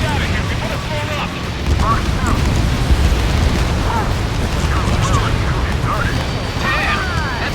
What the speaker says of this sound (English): Get the ships out of here before they're blown up!